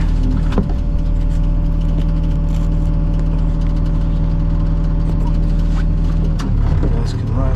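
Cat 725 articulated dump truck engine running at a steady, loud low idle with a deep droning hum throughout, a few brief knocks and clatters on top and a slight dip near the end.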